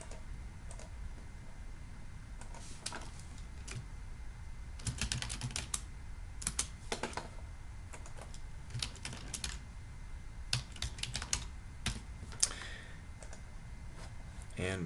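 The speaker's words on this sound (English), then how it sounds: "for the boundary we'll type in Davis, West Virginia" Computer keyboard typing, a town name being entered into WMS hydrologic modeling software, bursts of quick close clicks with pauses between, fairly quiet against a soft background hiss.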